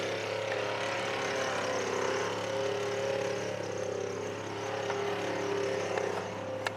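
A Toyota FRS fitted with a custom twin supercharger drives along, its engine a steady droning hum with a faint whine on top, moderately quiet and without speech.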